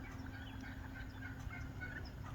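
A large flock of wild turkeys gobbles in a field at Volcan Mountain Wilderness Preserve, a dense, continuous chorus of overlapping calls, fairly close and steady.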